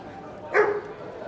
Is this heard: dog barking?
yes